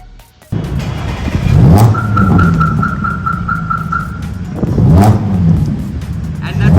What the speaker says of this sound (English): let's hear how this car sounds